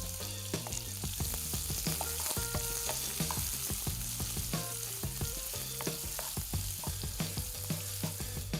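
Onions fry in hot oil in a pan, a dense, constant crackling sizzle close up, with frequent stirring taps running through the whole stretch and no voices.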